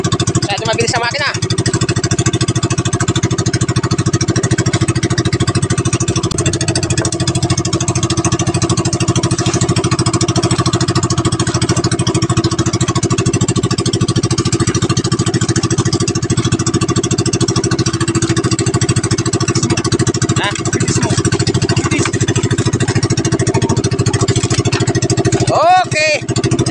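A motorcycle engine runs steadily and loudly throughout, a constant mid-range drone close by with slight shifts in pitch, and voices call out over it now and then.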